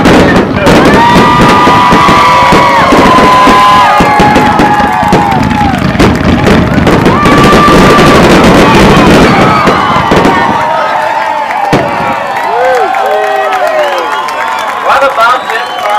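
A fireworks show at Sara Park after an evening race, with loud crackling bursts and whistling rockets close by, crowd cheering, and voices talking through much of it.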